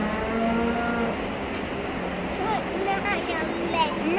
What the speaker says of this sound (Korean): 음메 하지?